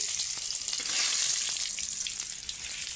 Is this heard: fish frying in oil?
yes